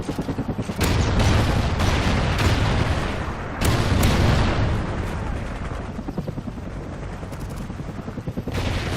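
A helicopter in Call of Duty gameplay whirs steadily, while near gunfire and heavy bursts crack over it throughout.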